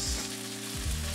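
Beef searing in a hot pan for a Chinese takeaway beef and tomato dish, a steady close hiss of frying fat with a low rumble underneath, no speech.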